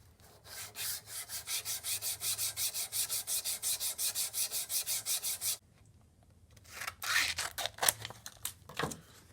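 Sandpaper rubbing rust off the steel blade of an old cheap kitchen knife: about twenty rhythmic back-and-forth scrubbing strokes up close, then a pause and a few irregular rougher rubs.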